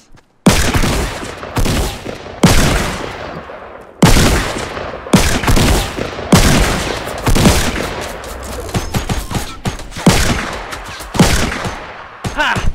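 Rapid bursts of gunfire from a Fortnite battle royale match crack out repeatedly and loudly, clustered volleys with brief gaps, some sounding close and sharp, with a faint voice underneath at times.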